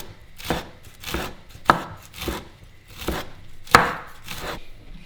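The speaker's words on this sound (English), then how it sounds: "the sage leaves are quite tough, so you want to chop them up really finely" Sage leaves bunched into a ball and chopped finely with a knife on a board, several distinct rhythmic chops with a couple of sharper knocks, close and clear with no talk.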